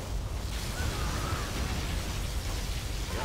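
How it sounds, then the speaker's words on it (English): A particle cannon blast explodes in Command & Conquer Generals Zero Hour, a sustained roaring, crackling rumble with a whooshing sweep through it, loud and dense for the whole stretch. "Particle cannon activated."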